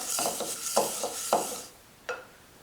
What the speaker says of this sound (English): amaranth, buckwheat, and now I'm going to stir them together.